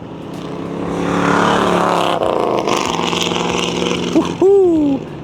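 A 1965 Ford Mustang thunders past on a flyby, its engine roaring loud and steady as it approaches and then fading with a falling pitch, with a short shout of excitement near the end.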